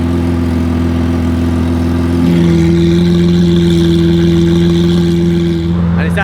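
Lamborghini Aventador V12 fitted with a Capristo exhaust idles with a loud, steady drone, then its tone shifts and deepens slightly as the exhaust valves open into loud mode, holding a strong constant rumble throughout.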